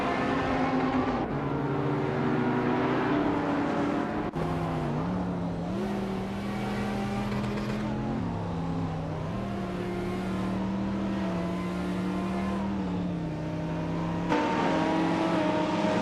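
Race cars roar continuously with engine pitch climbing and shifting as they accelerate and overtake, several cars heard close together without commentary over them.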